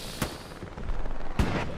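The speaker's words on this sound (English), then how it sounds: "Fire, tanks, artillery." Gunfire, tank and artillery fire in a D-Day battle video game, two sharp distant bangs over a continuous rumbling battlefield backdrop.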